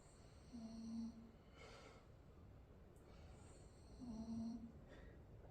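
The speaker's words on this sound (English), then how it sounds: "she's having a good old little snore" Soft snoring from a woman at rest, two slow drawn-out snores a few seconds apart, quiet and close with breathy, nasal texture.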